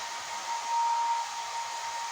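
A hair dryer on its lukewarm setting blows steadily on hair after a bath, giving a constant airy whoosh with a faint motor whine, slightly louder for a moment midway, no voices.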